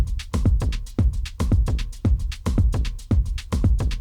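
A punchy electronic drum beat loops with a deep kick and crisp hits in a bouncy, offbeat pattern, loud and up close.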